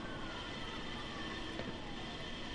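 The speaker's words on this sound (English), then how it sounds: "I'm surprised this train works with the water" A train rolls along rails in the video game Black Mesa, a steady, close, continuous rumble and clatter with no break and no voices.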